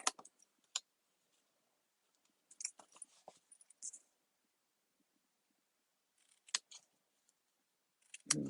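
Scissors snip through a paper treat box tab in short, crisp bursts of cutting, a few quick clusters of snips separated by silence, close and quiet.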